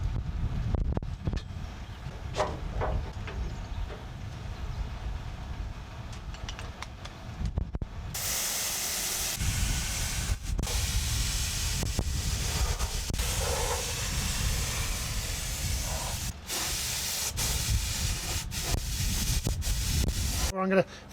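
Spray gun applying undercoat to a Series Land Rover during restoration, a steady hissing spray running close and continuous, with brief gaps and a louder burst partway through.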